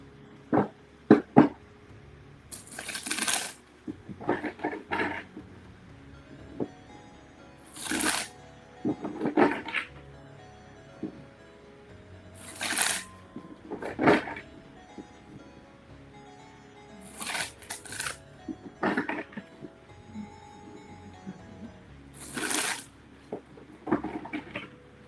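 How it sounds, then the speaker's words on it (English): Tarot cards are shuffled in repeated short bursts of riffling and slapping, close and fairly soft, with pauses between bursts and a quiet background. "I'm going to shuffle the cards now"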